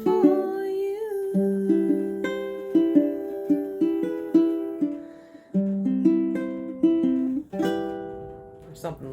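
Close, gentle ukulele fingerpicking plays the outro of a song, with plucked notes and chords ringing out in a slow, flowing line and a quiet voice faintly present.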